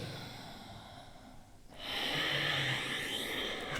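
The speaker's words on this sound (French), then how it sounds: "inspirez, ouvrez. Expirez, relâchez." A deep breath during a back-strengthening yoga routine: a quiet exhale fades off, then a strong, close inhale rushes in and holds steady.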